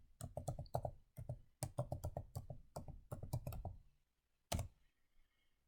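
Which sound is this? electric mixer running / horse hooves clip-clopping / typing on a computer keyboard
typing on a computer keyboard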